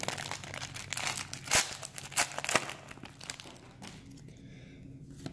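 Crinkly foil wrappers of 2017 Panini Donruss football trading card packs being torn open up close, a cluster of crackling rips and crunches followed by quieter rustling.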